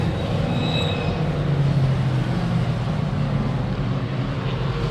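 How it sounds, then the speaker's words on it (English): Classic racing cars at Silverstone, including a Lotus Elan, rumble and roar continuously, a loud, dense engine drone that holds steady throughout without talk. "Listen to the rumble and the roar of these cars."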